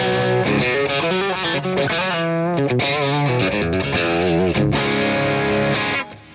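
An electric guitar plays through a Headrush pedalboard on its Classic Rock preset, giving a loud, distorted, chorus-tinged tone as a run of notes and bends rings out before cutting off at the end.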